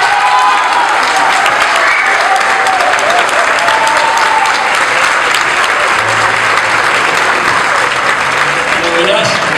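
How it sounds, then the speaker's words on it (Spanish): A crowd at a Buenos Aires tango and folk music gathering applauds loudly and steadily for the whole stretch, dense clapping filling the room with a few voices underneath. "quiero pedirle un aplauso"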